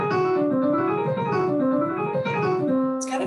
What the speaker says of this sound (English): if I just play a whole tone scale kind of fast